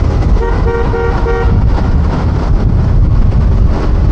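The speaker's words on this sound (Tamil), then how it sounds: "அது நம்ம ஹார்ன் சவுண்டு வந்து பயங்கரமாக இருக்குது" Loud vehicle horn honks in a few short repeated blasts over heavy engine and road rumble, then traffic noise continues.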